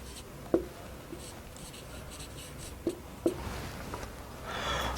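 Pen writing on paper during a physics problem worked out by hand, heard as a few quiet, brief scratches and taps spaced over a few seconds against low room noise, with no talking.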